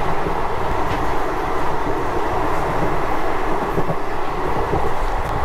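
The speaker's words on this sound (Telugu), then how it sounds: "ఇప్పుడు ట్రైన్ అయితే చాలా స్పీడ్ అయితే వెళ్తూ ఉంది" A Sainagar Shirdi–Kakinada express train runs at speed, giving a loud, steady, continuous roar of wheels and carriage rumble with faint rhythmic clatter throughout.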